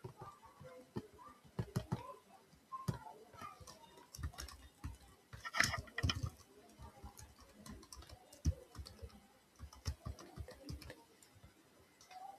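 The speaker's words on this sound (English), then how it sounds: "Okay, I've entered the password." Soft, irregular keystrokes on a computer keyboard as a password is typed, quiet clicking spread across the whole stretch with occasional louder taps and no talk.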